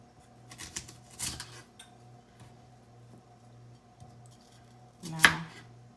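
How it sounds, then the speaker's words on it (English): Knife cutting the tip off an onion, a few soft slicing sounds early on, then a single sharp chop against the board near the end, quiet between. "So let me cut off the tip of this onion."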